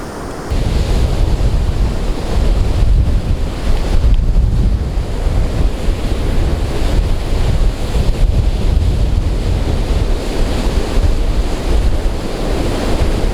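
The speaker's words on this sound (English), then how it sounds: "Well, the tide's coming in." Steady ocean surf rolling onto a Tasmanian beach as the tide comes in, a continuous loud wash of breaking waves mixed with buffeting wind noise, with no talking.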